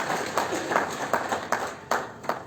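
Audience at a municipal ceremony in Maroua claps in uneven bursts, with several sharp peaks of applause rising over a steady background of crowd noise.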